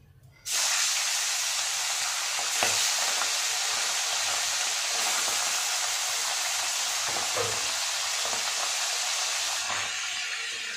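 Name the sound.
pomfret fish frying in hot oil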